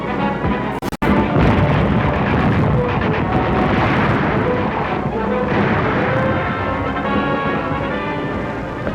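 Mortar blasts and machine gun fire rake a beach landing in a World War II battle film, a loud continuous barrage of rumbling explosions and rattling gunfire filling the whole stretch after a brief cut.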